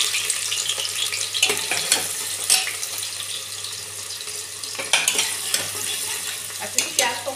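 Chopped onions fry in mustard oil, a dense steady sizzle broken by irregular scraping stirs and clinks of a spoon in the pan, fairly close and without talk.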